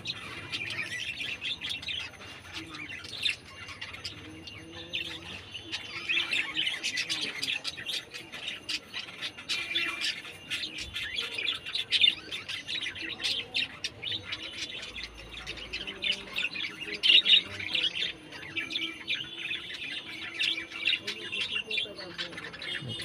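Pigeons in a home loft setup, with dense overlapping bird calls, squawks and soft coos filling the space close by throughout, a busy continuous chorus without clear pauses.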